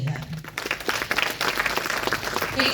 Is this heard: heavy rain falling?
no